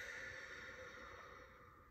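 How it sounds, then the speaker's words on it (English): A slow, soft exhale through the mouth during a children's yoga breathing exercise, a faint steady breathy hiss that fades out over about two seconds. "as you can hear, I'm breathing out through my mouth"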